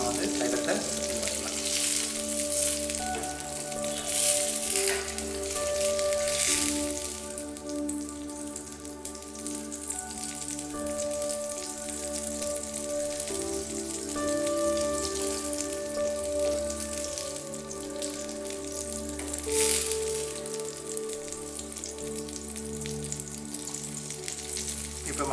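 Herbal wound ointment oil cooking in a pan sizzles and crackles steadily throughout, a continuous frying hiss with small popping bursts, no talk over it.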